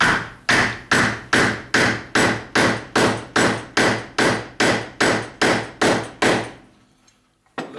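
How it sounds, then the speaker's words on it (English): A hammer strikes metal about a dozen times in a steady, even rhythm, each blow sharp and close, before the tapping stops, while tapping a part on a Bosch DC dynamo during refurbishment. "You can use a hammer, of course,"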